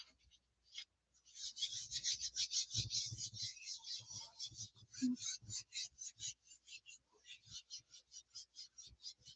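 Close, rhythmic rubbing strokes scrub dark blue paint off a plate, a steady run of dry scratchy swipes with a few soft thumps and faint breathy sounds.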